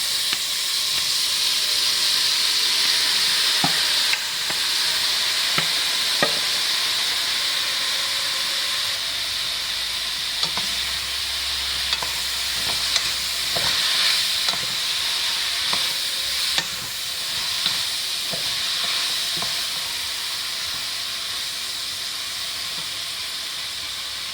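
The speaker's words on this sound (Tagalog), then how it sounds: "Lalagay ko na yung langka." Jackfruit pieces sizzle loudly in a hot pan for a Filipino coconut-milk dish, a steady frying hiss punctuated by scraping and clinks of a spoon stirring, close up and without talk.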